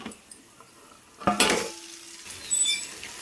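Cooked rice is tipped into a pan of frying tempering, giving a sharp metallic scrape and clatter of a utensil against the pan, then softer stirring and sizzling, close up and without talk.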